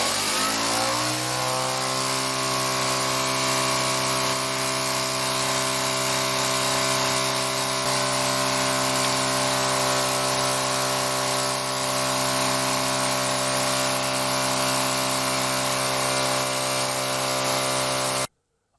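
A Mini N Machine motor runs steadily at 4,000 RPM, giving a loud, continuous mechanical hum with strong, stable harmonics that settles in during the first seconds and then holds unchanged for about eighteen seconds before stopping abruptly.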